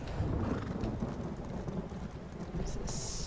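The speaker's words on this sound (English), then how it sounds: "A horse! A horse! My kingdom for a horse!" Horse hooves galloping in Elder Scrolls Online, a steady rhythmic clopping under a rumbling, rain-like ambient wash, fairly quiet and continuous, no talk.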